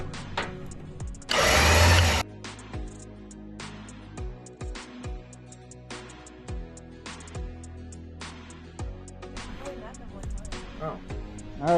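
An electric trailer winch with removable fenders hauls a classic truck onto the trailer, a short loud motor whir followed by scattered clanks and knocks, with people talking at moments.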